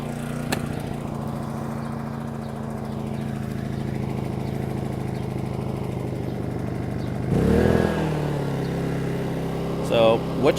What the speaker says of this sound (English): the eco throttle is off, meaning that it's running full throttle